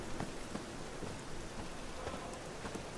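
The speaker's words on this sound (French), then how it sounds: "J'ai l'habitude de la pluie de toute façon" Steady rain pouring in The Witcher 3 video game, a dense continuous hiss with scattered drop patter, no voices.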